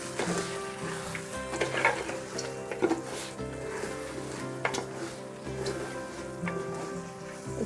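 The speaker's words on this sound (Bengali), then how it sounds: "চালটা আমি ততক্ষণই ভাজবো যতক্ষণ না সাদা হবে আর সুন্দর একটা শব্দ আসবে, মুড়ি ভাজার মতো সুন্দর শব্দটা আসবে" Rice frying in a pan for prawn biryani, with a steady sizzle and scattered crisp crackles like puffed rice popping, plus occasional stirring scrapes. It is close and moderately loud, with no talking.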